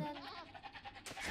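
Sheep bleat in the video game Age of Empires, one wavering bleat under quiet game noise, followed by a brighter burst of sound near the end.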